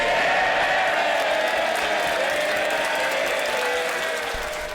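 Cheering and applause from MPs in the House of Commons chamber after a speech, a sustained roar of clapping and crowd noise, loud and even throughout before easing slightly at the end.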